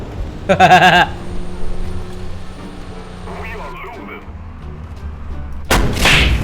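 Heavy cannon fire booms in a tank battle video game featuring an XM8 tank, with one loud blast near the start and another near the end, while players talk over the action.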